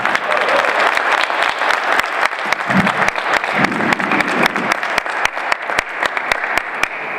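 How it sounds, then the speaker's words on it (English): An audience at a lecture hall event in Louisville gives a warm round of applause welcoming a speaker, dense steady clapping with a few sharp individual claps standing out. "give him a round of applause, a warm, healthy round of applause."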